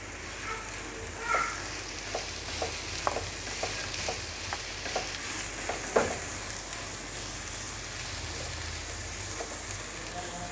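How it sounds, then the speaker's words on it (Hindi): Diced capsicum and potato fry in a pan with a steady, gentle sizzle, broken by a few soft clicks and stirring taps, close and without talk. "आप उसको इस तरह फ्राई कर लीजिएगा। ये 2 से 3 मिनट तक हम फ्राई कर लेते हैं।"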